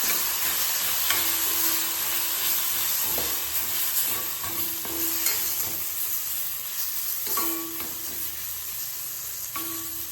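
Turmeric, chili and coriander powders fry in a pan with a continuous close sizzle, while a spoon scrapes and stirs in repeated knocks and strokes, no voices.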